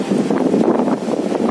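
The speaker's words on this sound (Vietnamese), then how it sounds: "Gió rất là mạnh nè các anh chị thấy không?" Strong wind gusts across a northwest-facing apartment balcony, buffeting the microphone in a loud, continuous roar with no speech.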